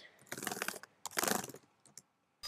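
Quick bursts of keys tapped on a computer keyboard while a password is entered, two short clusters of clicks close up and quiet, followed by a few isolated taps.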